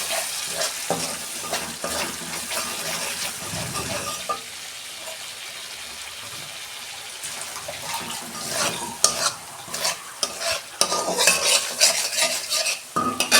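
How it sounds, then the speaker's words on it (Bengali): Spice masala sizzling in oil in a pan for a Bengali parshe fish dish, with a utensil stirring and scraping against the metal; steady close frying hiss broken by clattering stirring strokes, alone without talk. "2 মিনিট আমি কষাবো। দেখুন বন্ধুরা, কত সুন্দর তেল ছেড়ে গেছে মশলা থেকে।"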